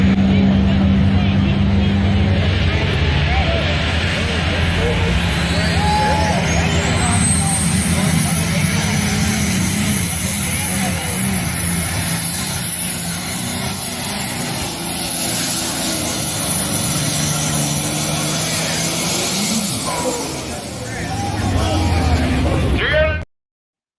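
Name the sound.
pulling tractor engine at a tractor pull event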